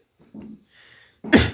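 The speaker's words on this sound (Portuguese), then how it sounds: "Eu tossindo aqui." A person coughs once, sharp and close, after a few softer breathy sounds, alone with no talk over it.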